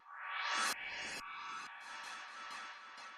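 Cymbal transition sample processed with an EQ sweep and auto pan, a bright wash rising steeply in pitch, then a string of repeated swooping sweeps and pulses that pan and fade, with no voices.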